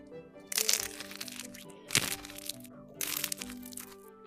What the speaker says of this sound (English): There is truly nothing better than a freshly fried, crispy spring roll. Listen to this crunch.